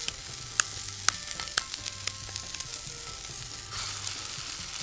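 Golf-ball-sized pork meatballs with garlic and fish sauce sizzle in a hot cast iron pan, giving a steady close hiss dotted with sharp pops and crackles.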